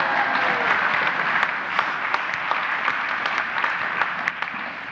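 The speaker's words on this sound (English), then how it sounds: "let's give Sydney another round of applause" A church congregation at a Thanksgiving service gives a round of applause, a dense, steady wash of many hands clapping at moderate distance, sustained evenly for several seconds with no voices above it.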